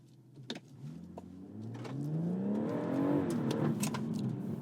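BMW M140i launching from a standstill: after a few faint clicks, the engine builds from a low rumble into a strong rising acceleration, revving up steadily and growing louder across the run with no talk.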